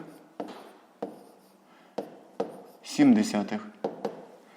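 Pen or marker writing out a fifth-grade math solution by hand, with soft periodic taps and scratchy strokes close by, plus a brief louder scraping burst partway through.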